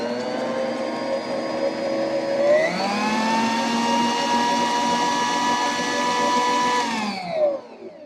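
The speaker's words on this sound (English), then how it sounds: "So I'm going to mix up this butter" Butter being beaten by an electric mixer: a steady whirring motor whine that rises in pitch as it speeds up, holds, then winds down near the end, loud and close.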